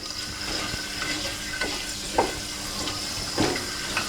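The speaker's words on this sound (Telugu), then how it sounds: "మొగ్గ, చెక్క, లవంగాయలు, యాలక్కాయలు ఇవి వేసాం కదా, కొంచెం హీట్ అవ్వాలి." Whole spices (cinnamon stick, cloves, cardamom and other spices) heating in hot oil in a pan for a chicken curry, a quiet steady sizzle with a couple of brief louder crackles.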